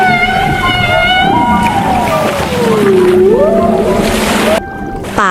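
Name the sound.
beluga whale vocalizing underwater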